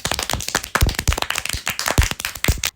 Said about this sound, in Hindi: मेरे कहने पर सब लोग हगंडा माई के लिए ताली बजाओ।